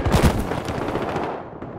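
Gunfire in the video game Battlefield Hardline, a loud dense burst of shots at the start that trails off into rumbling echo and game noise.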